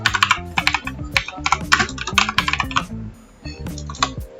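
Typing on a computer keyboard into a Python terminal, brisk clacking keystrokes in quick bursts close to the microphone, with a short pause before a final few taps.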